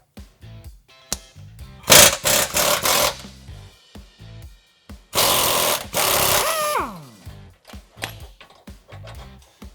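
Power tool driving a 21 millimeter socket onto a frame bolt during a Jeep Wrangler JL/JT hardware upgrade, heard in several loud close bursts of whirring and rattling with pauses between and no speech.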